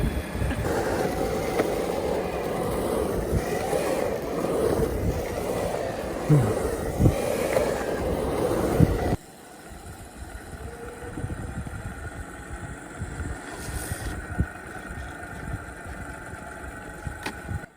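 A DIY electric skateboard powered by a drill battery rolls along with a continuous rumbling wheel and motor drone, loud and close at first, then quieter and smoother after a sudden shift midway.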